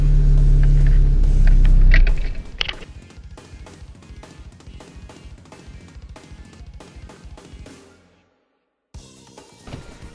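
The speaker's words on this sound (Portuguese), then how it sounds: "Se eu tentar engatar ré, por exemplo, ó, como é que arranha." A car's gearbox grinds harshly while someone tries to engage reverse, with a loud rumbling surge at first and then a rattling mechanical grind that stops abruptly, followed by a brief resumption.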